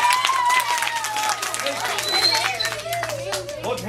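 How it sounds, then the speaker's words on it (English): Elementary schoolchildren clap and cheer in a school room, lively scattered applause mixed with excited chatter and shouting voices. "Give him a round of applause."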